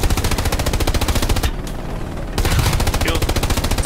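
Friendly machine gun fire in the video game Hell Let Loose, rapid regular bursts of loud automatic shots that break off for about a second and then resume at the same pace, with no one talking.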